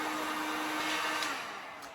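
A heat gun drying freshly painted Dollar Tree craft pieces gives a steady, close, loud airflow roar that holds evenly, then eases slightly toward the end, with no talking over it.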